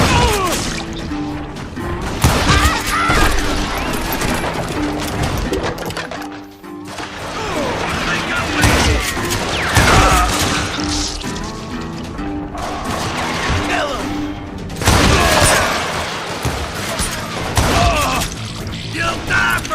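Gunfire in the Western shooter Call of Juarez: Gunslinger, repeated loud shot bursts and crashing impacts in clustered volleys with brief lulls between, close and dense, with occasional game voices.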